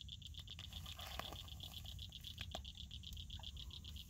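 Frog croaking repeatedly in a steady fast pulsing trill at night, outdoors near water, fairly faint with scattered small clicks and knocks around it.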